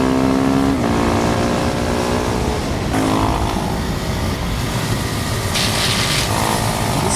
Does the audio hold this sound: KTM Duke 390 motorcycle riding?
yes